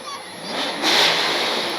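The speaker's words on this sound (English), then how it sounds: "Well, we got some engines revving." Car engines rev during a Christmas parade on a town street, with a rising roar that swells sharply just before the midpoint and holds, mixed with crowd noise and speech.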